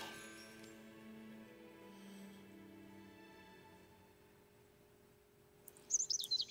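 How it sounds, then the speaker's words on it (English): Birds chirp in a stylized, trippy in-game ambience of the Dream Day Wedding: Married in Manhattan game, a soft layered chorus of tonal tweets and hums over a steady bed, with a brighter burst of chirps near the end. "Yay! Trippy birds."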